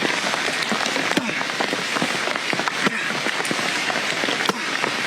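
Rain falls onto wood, a dense, fairly loud patter with scattered sharper drop hits running steadily throughout, with no talking over it.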